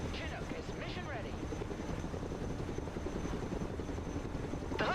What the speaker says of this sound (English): Personal carrier ready. Chinook is mission ready.